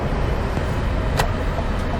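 A 2021 Toyota Highlander XSE drives in sport mode, heard from inside as a continuous, fairly loud blend of engine drone and road roar with no break.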